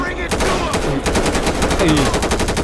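Rapid automatic gunfire in the video game GTA V, a loud, dense string of shots rattling off one after another without a break.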